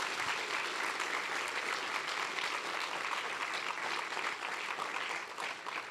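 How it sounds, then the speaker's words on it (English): A conference audience at a Rust Forge Conf session in Wellington, New Zealand breaks into sustained applause, a dense even wash of many hands clapping that holds steady for several seconds before easing slightly at the end. "So we get a quick round of applause for Tim for putting on such a great thing."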